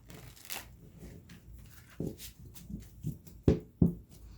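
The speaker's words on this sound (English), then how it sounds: "So I'm going to go ahead and shuffle the cards." Tarot cards being shuffled by hand, a few soft papery riffles and sharper slaps that grow more distinct toward the end, close and fairly quiet, with no voices.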